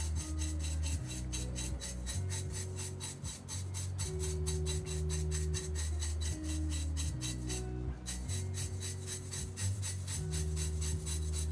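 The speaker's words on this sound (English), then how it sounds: "I'm kind of scrubbing this cup with these bristles" Stiff brush bristles scrub against a cup in steady back-and-forth strokes, a close, continuous rasping rub with a regular rhythm and no talking.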